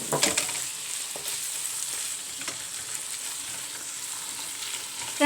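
Spaghetti sizzling steadily in a hot pan as soy sauce goes in, a constant frying hiss with a few clinks and a louder burst right at the end.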